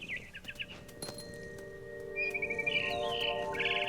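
A mama bird chirps in the video game What Remains of Edith Finch, giving short bright repeated tweets at the start and again later, close by over a quiet ambient background with a soft clink.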